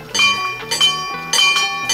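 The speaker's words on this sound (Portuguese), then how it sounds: "temos até o sino, que a gente pode até tocar aqui" A small chapel bell at a miniature park rings in a few bright, repeated strikes, each one ringing on between hits, loud and close with no voices.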